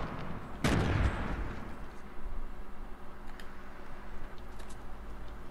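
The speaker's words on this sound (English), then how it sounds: "Somebody's throwing grenades." A single loud, close grenade blast in Fortnite with a short decaying rumble, followed by faint distant pops and clicks over a steady game background.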